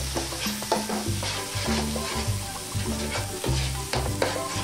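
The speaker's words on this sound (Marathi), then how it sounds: "मस्त हलवून घेऊया, त्याला स्टर करूया जेणेकरून हा व्यवस्थित भाजेल मसाला" Spice masala roasting in a pan for paneer masala, stirred with steady scraping strokes over a continuous close sizzle, with repeated clinks and scrapes of the spoon against the pan.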